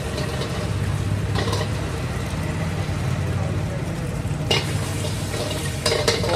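Egg going into a kadai with chicken, frying and being stirred, gives a steady sizzle with scraping stir strokes, under a constant low background rumble that sounds like passing traffic.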